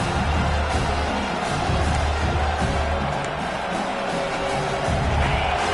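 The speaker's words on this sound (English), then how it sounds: "This crowd knows this defense needs them right now." A stadium crowd in College Football 26 roars steadily throughout, a broad continuous wash of cheering and noise with no distinct breaks.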